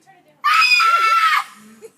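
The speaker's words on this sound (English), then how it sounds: "Okay, just scream, hurry." A person screams loudly for about a second, a sustained high, strained cry that rises abruptly and cuts off, with quieter voice sounds before and after.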